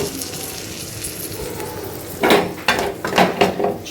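Chickpeas go into a spice masala in a pan. A low steady sizzle gives way to louder bursts of hissing and stirring clatter in the second half.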